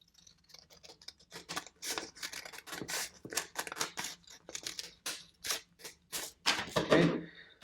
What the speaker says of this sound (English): Okay, so I'm going to take my scissors.